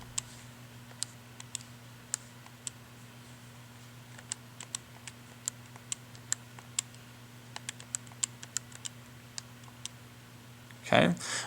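Keys pressed one after another on a graphing calculator while entering a 3 by 3 matrix: a steady run of faint, crisp clicks at an even pace over a low electrical hum, ending with a brief louder rustle.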